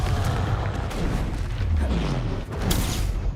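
A Confringo spell explosion in the video game Hogwarts Legacy booms amid a rumbling, low, continuous battle din, with a louder burst near the end.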